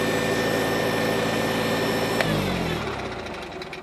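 A 1953 Farmall Cub tractor engine idles with a steady loud drone, then is switched off and winds down, its tone dropping and fading into a quieter tail.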